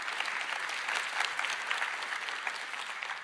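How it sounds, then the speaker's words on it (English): Sustained applause from a large keynote audience at a developer conference, steady dense clapping throughout with no speech over it. "A round of applause to our creator team for building this amazing product"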